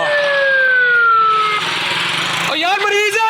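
An ambulance siren wails in congested Lahore traffic, its sweeping tones loud and near, with engine rumble and crowd noise around it and people shouting over the din.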